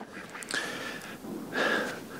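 A few short, breathy gobbling calls from wild turkeys, close and fairly quiet, with wind noise underneath, on a cold, windy day.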